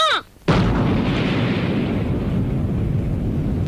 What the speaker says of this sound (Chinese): 我国第1颗氢弹爆炸成功了